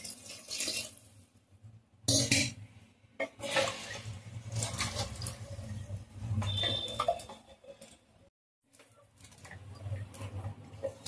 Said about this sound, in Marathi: यामध्ये मी आता पाणी घालून घेत आहे आपल्या पुलावाला शिजण्यासाठी.